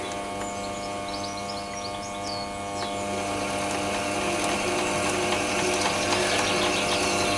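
Steady mechanical whir of a mini lathe's headstock gears turning slowly through a reduction gear, with a faint rhythmic ticking, growing slightly louder and denser over time, heard alone without speech.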